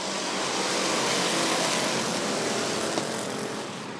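Pack of race cars roaring off at the green flag at Rockford Speedway's Midnight Ride, a dense continuous engine drone heard from a distance with no talk.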